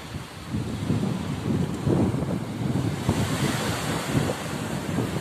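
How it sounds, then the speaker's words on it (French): Ocean waves roll in and break continuously on a deserted beach at sunset, a steady washing surf with swelling crests, accompanied by wind buffeting the microphone; no one speaks. "Et les belles vagues sont là."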